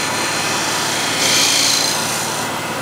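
A 10 mm spindle gouge cuts beads into spinning wood on a lathe, giving a loud continuous hissing scrape over the motor's hum that swells briefly in the middle.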